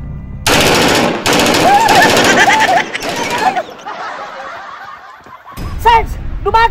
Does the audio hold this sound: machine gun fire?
yes